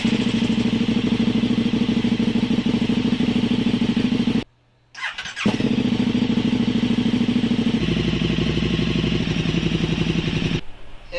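KTM Super Duke motorcycle engine running loud and close, idling steadily, cutting out briefly near the middle and then catching again and settling back into a steady idle after a valve check and oil change.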